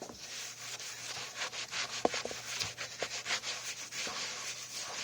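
A rag scrubs back and forth over a surface being cleaned with isopropyl alcohol, making a close, repeated dry rubbing with uneven strokes over a faint steady hum and one sharp tap midway.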